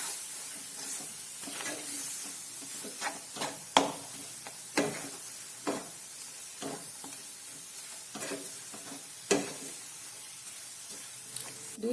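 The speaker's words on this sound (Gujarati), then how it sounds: "દૂધને આપણે આ રીતે લોટ સાથે મિક્સ કરી લઈશું" A milk and flour mixture stirred in a hot pan for a Mohanthal-style Raksha Bandhan sweet: a soft sizzle broken by repeated sharp scraping strokes of the spoon at an uneven rhythm, close and fairly quiet, no voices.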